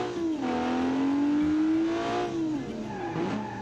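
Engine revving from a car driven in BeamNG, a sustained loud drone that climbs and holds, then drops as the throttle lifts near the end, with light tyre squeal and no voices.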